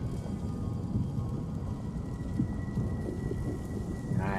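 A Storm Atronach summoned in Elder Scrolls Online, a steady stormy rumble of crackling, rain-like noise with a low thundering roll underneath and a rising warble at the end.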